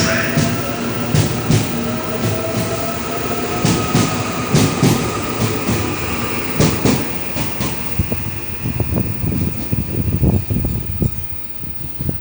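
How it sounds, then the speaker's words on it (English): An Auckland Southern Line three-carriage train arrives at a station platform, a loud, continuous rumble with repeated rail clicks and clacks, steady throughout before easing at the end. "The next train arriving at platform 1 is a Southern Line service to Britomart."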